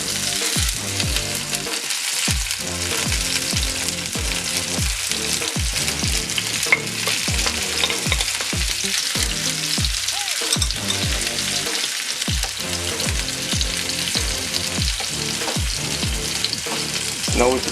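Saltfish frying in a hot pan with a steady, close sizzle, while a spoon stirs and scrapes in a regular rhythm of repeated knocks, continuous and without talk.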